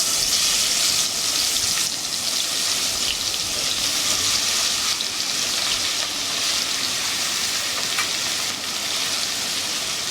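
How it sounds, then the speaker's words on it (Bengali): Small puti fish fry in hot oil in a pan, giving a loud, dense, crackling hiss that runs unbroken and close, with no talking. "তেল গরম হয়ে গেছে, এবার আমি মাছগুলো তেলের মধ্যে দিয়ে দেব।"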